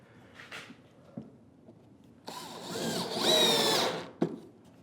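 A power driver sends screws into wood while a tool well add-on is built at a woodworking bench. Brief taps come first, then a loud whirring burst of about two seconds that rises in pitch and stops abruptly.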